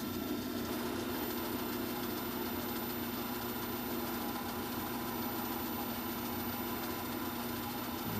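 A polishing wheel spins just under 1800 RPM while buffing with 15,000-grit white diamond paste, giving a steady, even motor hum that runs unbroken throughout without any talk.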